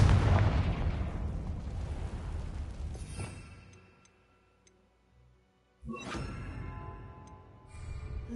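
A Confringo fire spell explodes in Hogwarts Legacy, a loud rumbling blast fading to near silence, then a sudden sharp crack and crackling burst followed by lingering fiery debris.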